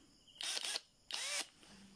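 Titanium Power cordless electric drill runs in two loud, high whirring bursts of about a third of a second each, with a short pause between them and no talk over it.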